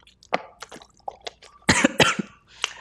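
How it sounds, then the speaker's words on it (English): A person coughs several times in short, irregular bursts, with a heavier double cough near the end, close to the microphone. "I'm just getting over a cough, and I'm like going to cough all over this mic."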